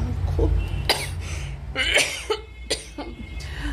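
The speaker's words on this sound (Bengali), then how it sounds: "খুব কাশি হচ্ছে হঠাৎ হঠাৎ করে" Several sharp coughs burst out close by in an irregular series, sudden fits with short pauses and a low background hum between them.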